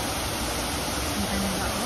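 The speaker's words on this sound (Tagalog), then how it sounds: "Yan po, ang napakagandang waterfall." The Goit Stock waterfall on a trail near Bradford gives a steady, broadband roar of falling water, continuous and close, with a faint voice briefly underneath.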